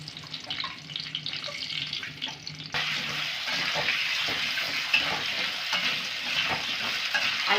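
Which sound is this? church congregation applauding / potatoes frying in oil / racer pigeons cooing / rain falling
potatoes frying in oil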